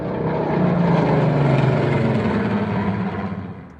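A Boeing B-17 propeller aircraft at Duxford drones steadily and loudly with a deep, slightly wavering engine tone that swells early and holds before easing off near the end.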